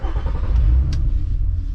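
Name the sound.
Nissan Skyline R32 with stock airbox idling and revving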